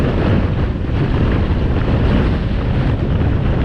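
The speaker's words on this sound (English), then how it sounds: "So far we've had like a 55-mile-an-hour gust" Loud, roaring wind gusting to about 55 miles an hour buffets the microphone in a constant, gusty rush with no talking.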